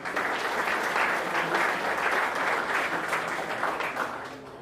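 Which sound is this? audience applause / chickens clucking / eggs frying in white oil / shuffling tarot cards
audience applause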